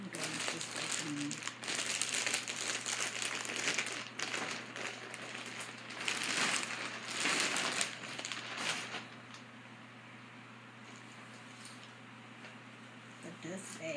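Packaging around a designer Louis Vuitton Artsy handbag being opened, with steady crinkling and rustling of paper or plastic close by, busier at first and then quieter, under occasional speech.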